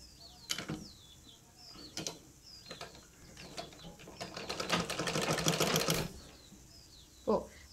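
A sewing machine stitches a churidar neck lined with canvas, running slowly in short bursts and then in one longer steady run of rapid close clatter, with a few separate knocks and faint background sounds.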